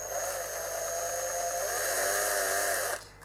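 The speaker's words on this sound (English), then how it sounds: "When I'm drilling plastic, I always tend to go slow." An electric drill bores slowly into plastic with a steady, continuous whine that holds at a constant pitch. It runs close and fairly loud for about three seconds, then cuts off abruptly.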